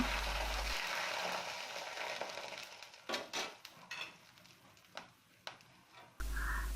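Bay leaves, cinnamon, cloves and cardamom frying in mustard oil, a soft close crackling sizzle broken by a few sharp clinks of utensils against the pan.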